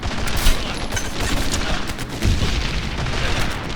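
Loud, dense battle noise in Medal of Honor Airborne, with a grenade blast thudding up amid continuous gunfire and booms, close and harsh throughout.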